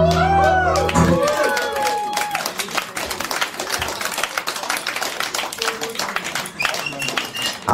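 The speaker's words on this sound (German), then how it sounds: "der Beifall ist berechtigt." Audience applause at a cultural event in Schwerin after a German song, dense clapping from a crowd that begins as the music ends and sustains loudly throughout.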